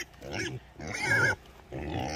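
Three bursts of loud, close grunting and snorting come from red wattle pigs on a farm, separated by brief pauses.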